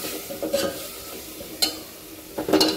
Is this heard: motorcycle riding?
no